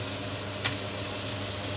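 Pork frying in a hot pan with garlic and onion, a steady soft sizzle with one brief sharper hiss, continuous and fairly quiet with no talking.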